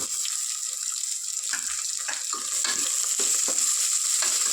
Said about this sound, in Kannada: ನಾವು ಹಾಕೋ ವೆಜಿಟೇಬಲ್ಸ್ ಎಲ್ಲ ಸ್ವಲ್ಪ ಎಣ್ಣೆಲೇ ಚೆನ್ನಾಗಿ ಫ್ರೈ ಆಗಿಬಿಟ್ರೆ